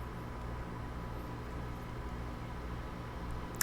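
A dual-socket Opteron 6272 computer runs hot under a heavy compile load, giving a steady, hissing fan roar with a faint tonal whine beneath it, constant throughout and unaccompanied by talk.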